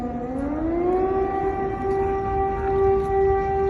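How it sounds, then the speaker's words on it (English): Air raid siren sounding in Lviv, Ukraine, near the main train station, a loud, sustained wailing tone that rises in pitch and then holds steady, heard alone over low background noise. "Andre, how often are you getting sirens on any average day?"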